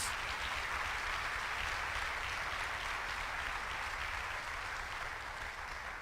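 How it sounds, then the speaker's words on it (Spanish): A church congregation applauds for Christ during a Spanish-language worship service, a dense, steady roar of many hands clapping that holds evenly for about six seconds, tapering only slightly near the end. "Dale un aplauso al Rey de Reyes y al Señor de Señores"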